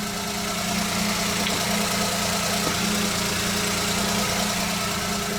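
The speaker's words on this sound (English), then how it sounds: "Everything seems to be running smooth." A Suzuki Jimny JA22W engine idles steadily after an oil change, a continuous low mechanical hum with a faint ticking texture, close by and unbroken for several seconds with no talk.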